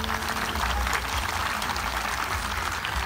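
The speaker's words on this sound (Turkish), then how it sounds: "saz ekibimize güzel bir alkış alalım" An audience at an Erzurum cultural night in Akhisar gives the saz music ensemble a steady, dense round of clapping from many hands, lasting the whole stretch.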